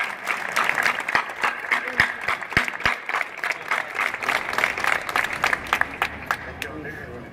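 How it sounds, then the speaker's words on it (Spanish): A rally crowd in the Plaza de España in Madrid greets arriving marchers, with scattered, uneven clapping mixed with shouts and voices and sharp individual claps close by. "¡Un aplauso muy grande!"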